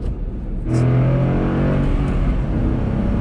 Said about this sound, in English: Oh man, still sounds like a Mustang.